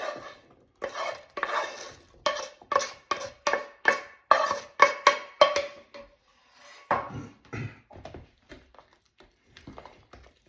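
A thick potato babka mixture with bacon, onion and mushrooms is stirred in a bowl, making a fast run of close, wet squelching strokes that slow into scattered scrapes toward the end.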